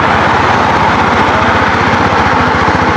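A Honda CB 250R motorcycle engine runs loud and close with a steady, buzzing, rapid pulse throughout, with no pauses and no voices.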